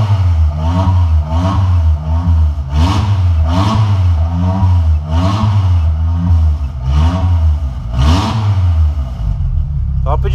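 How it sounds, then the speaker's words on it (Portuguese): A non-turbo Volkswagen Gol engine revs repeatedly through an open exhaust pipe with a loud, raw rumble, rising and falling in steady surges close by, under occasional talk. "O escape tá só o cano aqui embaixo, por isso do barulho que ela tá aqui embaixo"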